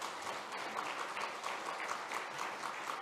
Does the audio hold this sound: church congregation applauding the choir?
yes